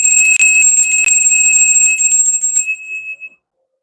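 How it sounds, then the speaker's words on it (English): A metal bell struck once for a solar plexus energy-cleansing ritual, ringing out loud and close with a bright, sustained tone that slowly fades away alone. "We're going to do the solar plexus bell."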